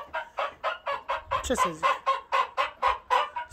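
A rooster in a pigeon aviary clucks in a fast, evenly spaced series of about a dozen close, loud calls, with a brief spoken remark partway through.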